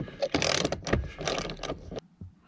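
Ratchet wrench clicking as it backs out 10 mm bolts on a Ford F-150 during an auxiliary switch install: close, busy bursts of rapid ratcheting for about two seconds, then a brief quiet with one last small knock.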